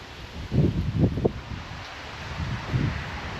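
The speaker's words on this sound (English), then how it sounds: "the wind is really starting to pick up" Strong wind gusting outdoors beside a fertilizer spreader, coming in rough buffeting bursts that rumble across the microphone, easing and then rising again over about three seconds.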